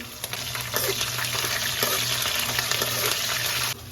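Curry leaves and chillies fry in hot oil in a pan, a steady loud sizzle and crackle with small pops throughout, alone without talk, cutting off near the end.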